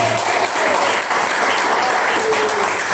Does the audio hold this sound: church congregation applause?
yes